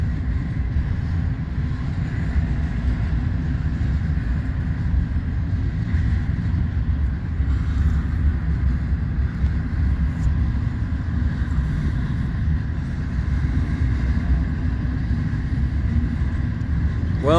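A long BNSF Warbonnet freight train rolling east on the Blair subdivision, a steady low rumble of engines and wheels on rail that holds at a constant moderate level throughout, heard from a distance with no distinct horn.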